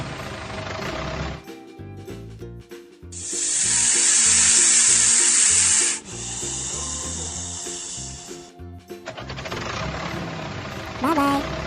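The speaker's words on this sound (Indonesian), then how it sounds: "Snake. Ular." Cartoon snake sound in a children's animated animal show, a sustained loud hiss lasting several seconds over playful background music.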